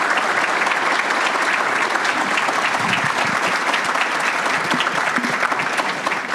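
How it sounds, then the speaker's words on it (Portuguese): A seated audience at a banking panel event with invited guests breaks into loud, sustained applause. Dense clapping fills the room steadily for several seconds without letting up. "Quero pedir uma salva de palmas para os nossos convidados."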